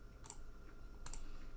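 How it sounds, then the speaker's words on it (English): A computer keyboard gives two quick clusters of sharp clicks about a second apart, faint and close, with no speech. "keyboard sounds."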